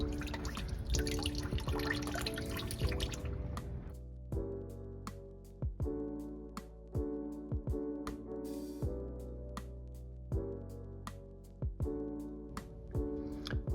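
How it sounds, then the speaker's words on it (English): Fluid draining from a Chevrolet Silverado 2500 during an oil change, heard as a steady trickle that gives way to slow, distinct drips falling one at a time at an irregular pace, close by, with no talking. "And I've let this drip for a little bit."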